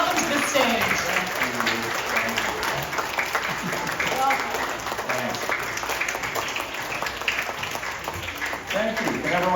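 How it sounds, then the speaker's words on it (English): An audience at a school author presentation claps continuously to welcome children's author Tim Young, a dense patter of many hands with a voice speaking over it throughout. "Can you give him a warm round of applause?"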